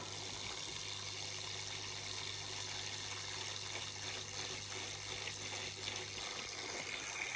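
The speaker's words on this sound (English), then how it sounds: "now you can see it started spitting out water again" A fish tank filter spitting out water, a steady close trickling and splashing flow with a low constant hum from the pump underneath, continuous throughout with no talking.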